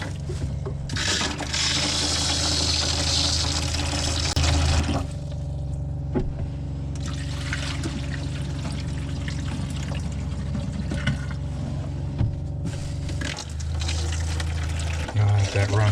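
Water running steadily through a Class B campervan's lines into the bathroom sink, a continuous close splash and flow with a low pump-like hum underneath as a person talks nearby.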